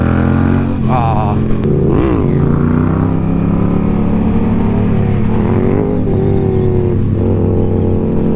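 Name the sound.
Honda Grom motorcycle revving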